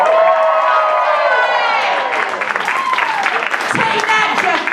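Comedy show audience at SF Sketchfest cheering, whooping and applauding in a loud, dense burst that fills the room, with shouts rising and falling throughout.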